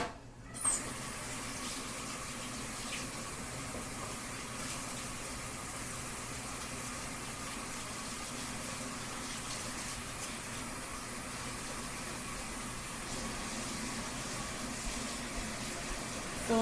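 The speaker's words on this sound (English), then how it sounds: "Filling up my sink." Tap water runs steadily into a kitchen sink, filling it with a continuous close gush and no one talking.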